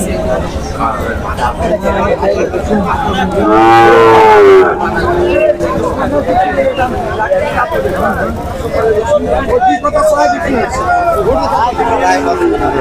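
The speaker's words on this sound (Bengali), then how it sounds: "এটা পাকিস্তানি অনেক সুন্দর একটি গরু" A cow lets out one long, loud moo partway through, over constant crowd chatter and people talking close by at a busy, noisy cattle market in Tebaria, Natore.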